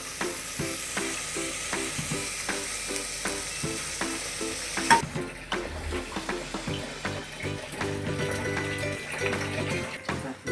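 Chopped beans go into a hot frying pan for a chapati palya, with a loud, steady sizzle and frying hiss, stirring clatter, and a burst of fresh crackling midway as the beans land, continuing busily to the end.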